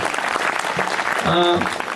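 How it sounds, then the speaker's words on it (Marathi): Audience applause for Mahesh Maharaj, a mridang player, at a devotional kirtan gathering, a steady dense round of clapping from a crowd, close and continuous, with a voice over a sustained tone partway through. "एकदा महाराजांसाठी जरा जोरदार टाळ्या वाजवा."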